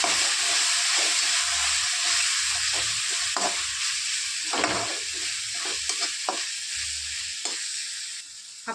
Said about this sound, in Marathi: हिंग आता परतून घ्यायचं आपल्याला